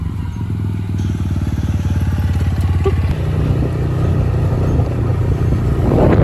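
A motorcycle ride through Kundapura town, the engine running steadily close by with a throbbing idle-like rhythm that shifts to a higher, busier drone partway through, joined by road noise and rattling clatter.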